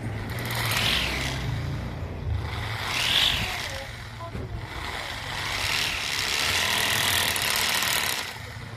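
A homemade DIY grass cutter's small engine running at throttle, a steady loud droning whine that swells and eases over several seconds, close by, with no talk.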